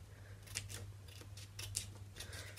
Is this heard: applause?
no